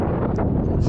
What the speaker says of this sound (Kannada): ಸಖತ್ ವಿಂಡ್ ಇದೆ ಗುರು, ವಿಂಡ್ ಬ್ಲಾಸ್ಟ್.